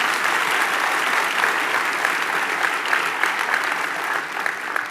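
Sustained audience applause at a town hall meeting, dense steady clapping from a large crowd that fills the whole stretch without letting up.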